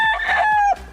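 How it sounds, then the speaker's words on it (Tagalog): A Hiluva line gamefowl rooster crows once at close range, a short, loud, strained call that breaks off abruptly. "ito yung Hiluva line namin na manok"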